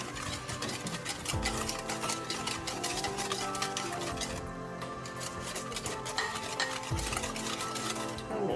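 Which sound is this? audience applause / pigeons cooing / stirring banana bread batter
stirring banana bread batter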